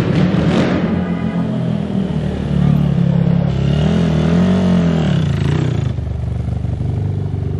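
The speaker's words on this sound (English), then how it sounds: "That was like a first for me trying a manual ATV." A manual ATV engine revs steadily and close, with its pitch rising and falling as it is ridden, staying loud and continuous throughout.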